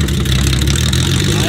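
A VW Golf engine runs steadily through a provisional, temporary exhaust, a continuous loud mid-to-low rumble close by with a faint voice underneath.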